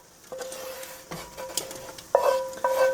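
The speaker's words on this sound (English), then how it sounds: "we're going to dump all this bacon grease, garlic, onions, all down here in these greens" Bacon grease, garlic and onions scraped from a cast iron pan into collard greens, with metallic clanks and taps, a short sizzle and scraping, close and moderately loud.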